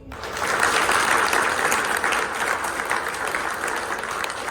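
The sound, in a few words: round of applause at a staff service awards ceremony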